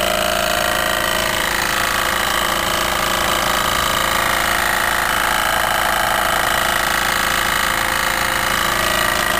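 Small steam engine fitted with a copper coil condenser, running with a dense, steady mechanical chatter and hiss at constant loudness for the whole stretch, no voices.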